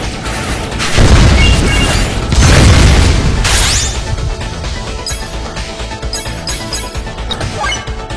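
Rocket boost and explosion in a flight simulator game: two heavy, rumbling booming surges a second or so apart, followed by a sharp burst and a fading mechanical roar.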